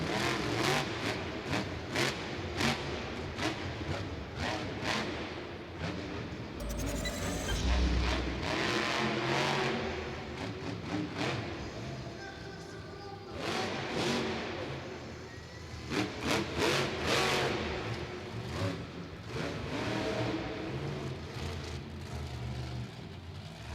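Monster truck engines roar and rev at full throttle during a freestyle event in an arena, loud and continuous with surging bursts and crowd-like noise underneath.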